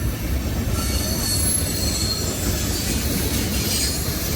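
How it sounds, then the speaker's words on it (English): A CSX freight train with a slug locomotive and a New York Central heritage unit rolls through a railroad crossing, a steady, loud rumble of wagons with squealing wheels and rail clatter throughout, no voices. "Sometimes, folks, you just pick the wrong crossing to film a train."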